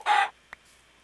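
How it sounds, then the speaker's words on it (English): A single short cluck from a chicken in a survival video game, one brief burst followed by a tiny click and quiet. "And another chicken."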